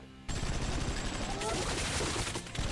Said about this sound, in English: He's using these shotguns or Uzi, whatever it's called, on me